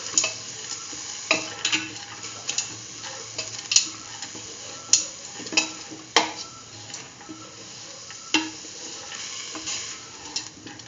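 Scraping and stirring kidney beans and chayote stew in a pot, with repeated sharp clinks of a spoon against the metal over a steady sizzling background, no voices.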